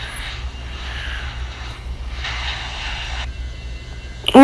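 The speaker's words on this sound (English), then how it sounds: "Takeoff roll is starting." Airbus A330 jet engines roar steadily during a heavy takeoff roll from Key West, a loud, continuous cabin-side rumble that swells in the middle before a brief sharp sound at the end.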